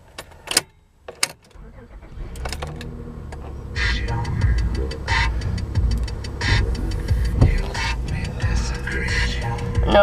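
A car engine is started from inside the vehicle: a couple of key clicks, a brief pause, then the engine catches and settles into a steady low idle with ticking, heard up close.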